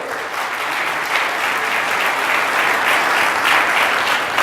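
An audience at an ice cream distributors' convention keynote breaks into loud, continuous clapping, a dense full-room applause holding steady the whole time.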